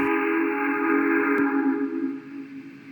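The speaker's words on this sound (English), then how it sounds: "I've never heard that whistle before." A steam engine whistle blows through fog in one long, steady, loud blast that fades toward the end.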